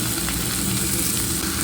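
Small pieces of mutton fat frying in a hot pan, giving a steady, close, dense sizzle and crackle that holds evenly throughout with no talking.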